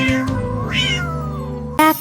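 A sung cat meow in a French children's song about a parade, drawn out with a wavering pitch over steady backing music, followed by a short, louder meow at the end.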